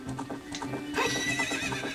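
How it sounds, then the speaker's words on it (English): A horse in Zelda: Ocarina of Time Master Quest gallops with steady clip-clop hoofbeats, then lets out a loud, close neigh midway that rings over the game's background music. "I'm just riding a horse"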